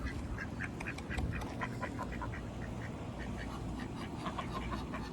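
Ducks quacking at a creek in a park, a run of faint, fairly distant quacks repeating over a low outdoor background.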